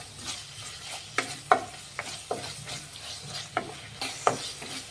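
A spoon stirs tomato masala with kasuri methi in a pan, making repeated scraping strokes over a soft steady sizzle, close and moderately loud with no talking.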